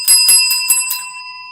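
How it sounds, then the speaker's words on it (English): A small hand bell is shaken about five times in quick succession, bright and loud close by, its ringing tone lingering and fading after the shakes stop. "Where is my bell?"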